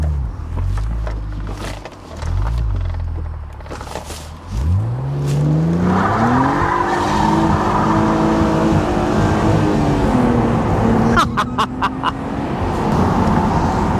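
BMW Z4 being whipped around near the A19 slip road, engine revving loudly, then a long rising tire squeal that holds steady for several seconds as the car turns, close and alone.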